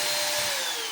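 A power screwdriver drives a screw into a Dell Inspiron 15 P63F002 laptop case, giving a brief, steady, high-pitched motor whine, close and loud, with no voices.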